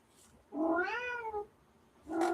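A single drawn-out cat meow, rising then falling in pitch, followed by the start of another meow, close and clear against a quiet background.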